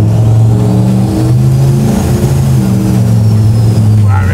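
A turbocharged 760-horsepower Chevy C10 pro touring truck pulls away under light throttle, its loud, deep engine note swelling and holding close by.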